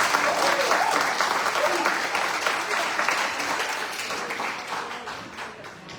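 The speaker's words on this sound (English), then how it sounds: "a special round of applause for our Treasures of Youth recipients for 2026" A crowd claps for youth award recipients at a Wednesday night ceilidh, dense sustained applause that stays loud and gradually eases off toward the end.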